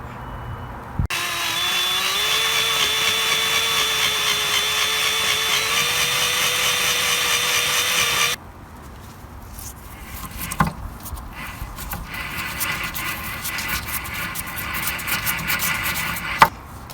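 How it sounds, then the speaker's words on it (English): A power drill whines steadily as it grinds out a locating screw head during a rear wheel bearing job on a VW Golf Mk5, about seven seconds of loud continuous grinding, then stopping, followed by quieter workshop noises. "putting the drill on it and grinding it out"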